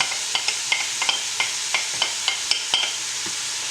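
Red peppers frying in a risotto pan with chorizo, a steady bright sizzle punctuated by regular light scrapes and stirs, close and alone.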